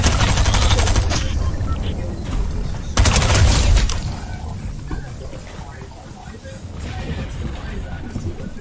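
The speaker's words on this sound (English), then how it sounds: "So I'm now gonna try to shoot him with the gun I got from fishing." Video game gunfire from a gun obtained by fishing, aimed at a boar: a dense, loud volley of shots at the start, another burst around three seconds, then quieter game ambience, with a voice talking throughout.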